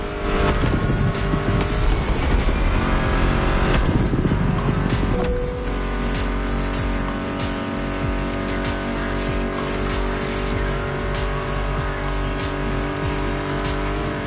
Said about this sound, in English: Meshes well with the sound of the engines